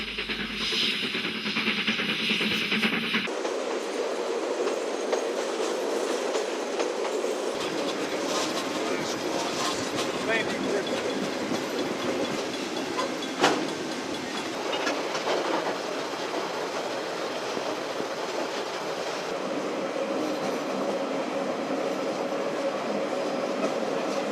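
A train rolls through a disused railway yard once used for loading coal and timber wagons, a steady rumbling hum with a faint rhythmic clatter that holds at an even level throughout.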